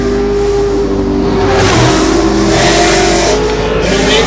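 A Ford Saleen Mustang race car launching at a hillclimb event: a loud, close engine revs hard and climbs in pitch as it pulls away, with a gear change midway, dominating with no talk over it.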